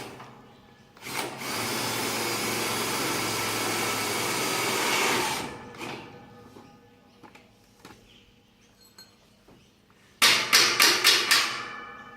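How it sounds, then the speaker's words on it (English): A power drill whirs steadily for about four seconds, stops, then gives a quick series of short bursts near the end, up close and loud, while assembling a horse stable panel. "Once again I'm going to use the drill again."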